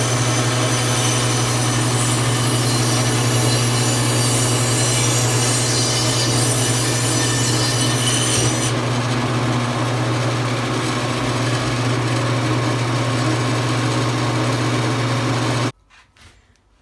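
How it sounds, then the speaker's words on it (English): A bandsaw cuts through a 5-inch-thick piece of ash wood, a loud, close, continuous buzzing whine that holds steady for a long stretch and then stops abruptly, leaving near silence. "I've got this piece of ash that's about 5 inches thick, so we're going to try cutting this on the bandsaw."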